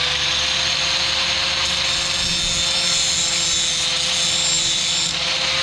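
A power sander fitted with a 40 grit disc grinds against rough-cut stainless steel, a steady loud abrasive whir with a constant motor hum running unbroken through the whole stretch, no voices.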